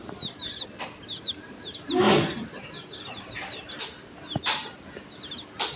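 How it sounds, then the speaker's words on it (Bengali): Chickens and chicks wander a sunny farmyard near a pond, giving repeated high chick peeps and soft clucks at moderate distance, with a few sharp knocks and a brief rustling burst. "মুরগিগুলো হাঁটতে আছে বাচ্চাগুলো"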